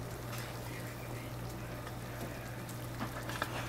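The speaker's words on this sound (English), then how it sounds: "Absolutely boiling water." Water at a full rolling boil for instant Chinese spicy soybean noodles, a steady close bubbling hiss with a low hum underneath and a few small clinks near the end.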